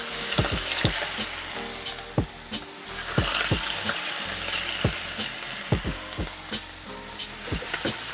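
Eggplant, chicken and basil leaves stir-fry in a hot pan, with a steady sizzle and repeated scraping strokes of the spatula, close and loud.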